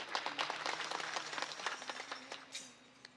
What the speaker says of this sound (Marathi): जरा कडाडून होऊ द्या ना एकदा टाळ्या थोड्या